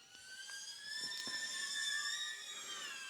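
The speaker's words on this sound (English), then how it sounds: "Well, this drone is really nice." A BetaFPV Pavo20 Pro II FPV drone, a sub-250 g quadcopter, whines with steady high-pitched propeller tones that rise and fall slightly as it turns, fairly close, with no talking.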